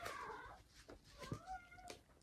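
A pet cat meows several times indoors, the calls rising and falling in pitch, fairly close and moderately loud with no talking over them.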